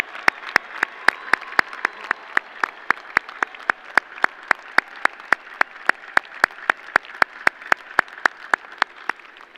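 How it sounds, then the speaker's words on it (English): A commencement audience applauds with steady clapping under a regular series of sharp, evenly spaced louder claps, a rhythmic beat that continues throughout. "stand up and get a round of applause for those who have made this journey possible"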